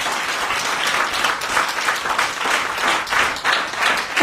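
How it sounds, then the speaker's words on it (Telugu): A church congregation at a prayer service claps loudly and steadily throughout, a dense roar of many hands with a faint voice underneath. "ఏంటి చప్పట్లు కొడుతున్నారు"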